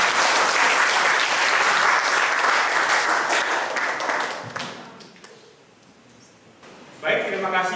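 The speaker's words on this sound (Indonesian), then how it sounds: "Tepuk tangan dulu." A class or lecture audience at a nursing institute bursts into dense applause that fades out over about five seconds before a voice starts speaking.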